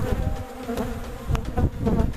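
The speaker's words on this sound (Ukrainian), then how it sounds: "Ой, бджоли напали." A steady, close buzz of honeybees during an amitraz hive treatment drones through the whole stretch, dense and continuous with slight swells in loudness.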